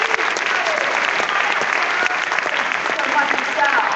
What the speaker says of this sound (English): A round of applause and a huge Chicago welcome